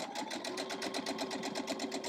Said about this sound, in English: Sew down that line.